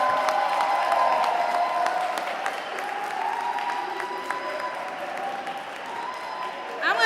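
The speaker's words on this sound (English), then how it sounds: "I want you to clap it up, yell" Crowd at a Boston youth speak-out event applauding and cheering, a broad continuous wash of clapping and raised voices that holds steady and eases slightly toward the end.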